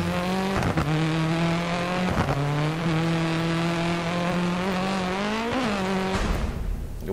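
A Mitsubishi Lancer Evolution X rally car in the DiRT Rally video game on a Finland stage, its engine droning loudly and continuously with pitch rising and falling through gear changes, then cutting out abruptly at the end.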